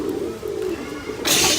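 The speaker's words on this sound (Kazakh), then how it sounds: "Төбесінде тола кептерлер екен ғой, қараңыз." Pigeons perched on a rooftop give soft, low cooing calls in short repeated phrases. A burst of louder hissing noise cuts in at the very end.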